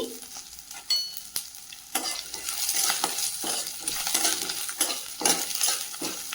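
Tamarind, green chillies and other ingredients sauté in a pan for a drumstick-leaf chutney. A close, lively sizzle is broken by repeated scraping stirs of a spoon against the pan, with no voices.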